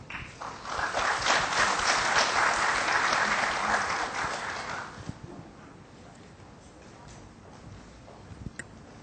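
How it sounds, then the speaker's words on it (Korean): Audience applause at a university award ceremony fills the first five seconds with loud, dense clapping, then thins to scattered claps and room murmur. "박수 부탁드립니다."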